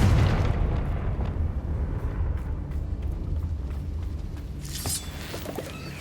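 The Confringo blasting curse goes off in Hogwarts Legacy with a heavy, low boom at the start that fades into a long rumbling tail, followed by a brief bright crackle near the end, with no talking.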